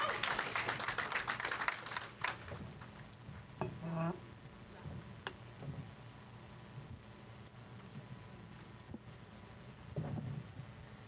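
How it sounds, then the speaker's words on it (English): Audience applause at the PWBA Bowlers Journal Rockford Open bowling tournament, scattered clapping that is loudest at the start and then thins out, set against the hum of the bowling centre. "Let's give you ladies a huge round of applause here at the PWBA Bowlers Journal Rockford Open"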